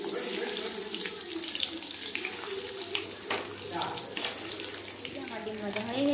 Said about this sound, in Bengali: এই যে আমাদের তেল গরম হয়ে গেছে। এবার দিয়ে দেবো ডিমগুলো।